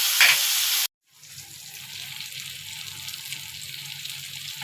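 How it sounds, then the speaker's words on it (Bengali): Small mola fish sizzling in a pan as they are turned over, a loud burst of frying and stirring that cuts off abruptly, then a quieter steady sizzle. "এই যে মাছগুলো এখন উল্টে পাল্টে ভেজে নিচ্ছি"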